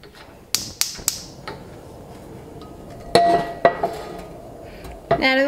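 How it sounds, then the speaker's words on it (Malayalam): A heavy cast iron pan clanks and clinks as it is handled in a kitchen, several sharp metallic knocks with ringing tails spread across a low room hum. "ഞാനിവിടെ എടുത്തേക്കുന്നത് കാസ്റ്റ് അയണിൻ്റെ പാനാണ് എടുത്തേക്കുന്നത്."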